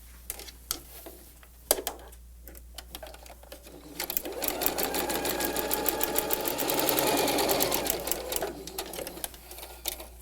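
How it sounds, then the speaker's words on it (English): A sewing machine stitches a standard quarter-inch seam through quilting cotton for an Aunt Dinah quilt block, starting with a few scattered clicks, then a steady close hum of rapid needle strokes that runs for several seconds before stopping, with no talking. "we're going to sew a standard 1/4 inch seam allowance"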